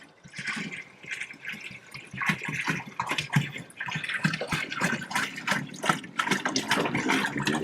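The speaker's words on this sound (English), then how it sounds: "So we're pouring from the top here, as is good practice." Water pours from the top into a DI water system, a continuous close gurgling and splashing with bubbly glugs as air gets in.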